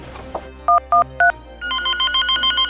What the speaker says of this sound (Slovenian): Ježek Snežek mi porine telefonsko slušalko v roke in vtipka 112